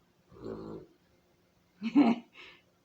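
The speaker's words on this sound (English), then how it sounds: "She had a little snore there." A sleeping female dog lets out one short, low, faint snore in a quiet room, followed a moment later by a couple of brief soft sounds.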